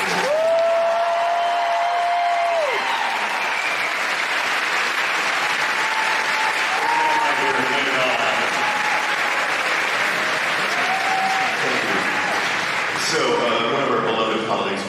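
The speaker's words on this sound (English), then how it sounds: "Before we do, let's have one last round of applause for Mr. Patrick." A crowd applauds at a live stage show at a Walt Disney World fan event, sustained clapping heard over music with a sustained tone and a voice speaking from a PA.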